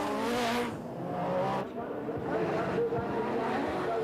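Rallycross cars racing at Druids corner in 1991, an Audi sliding through the bend, engines roaring and revving close by with tyre noise, under continuous commentary.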